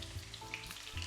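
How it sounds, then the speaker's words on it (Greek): Eggplant slices frying in oil in a pan, a steady close sizzle and crackle that runs throughout. "Και συνεχίζω εγώ με το τηγάνισμα."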